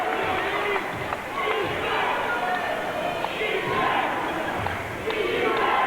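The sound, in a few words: basketball crowd cheering on the Cougars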